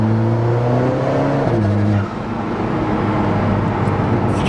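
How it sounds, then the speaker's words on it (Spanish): Exhaust of an Alfa Romeo 4C driving on roads in Andorra, a loud, close, steady engine drone whose pitch drops around a gear change and then holds. "se oye por tanto también mucho el ruido del escape"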